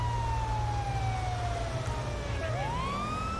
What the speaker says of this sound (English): So I would say leave the siren on